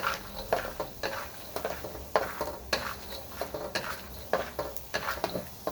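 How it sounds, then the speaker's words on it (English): Peanuts heating slowly in oil in a pan for Kung Pao chicken, a soft sizzle under a run of sharp clinks and scraping stirs that repeat at an uneven rhythm, close and fairly quiet, with no talking. "we're going to slowly heat up the peanuts with the oil"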